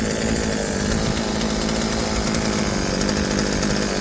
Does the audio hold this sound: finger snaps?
no